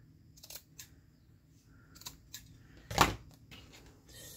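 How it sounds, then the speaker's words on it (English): Scissors trim paper belly bands for a ring binder craft project with several short, quiet snips and rustles, then one louder, sharper cut near the end in a quiet room. "And then we'll just turn this over and trim them down."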